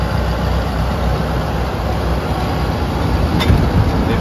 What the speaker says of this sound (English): This is our M5 snow tractor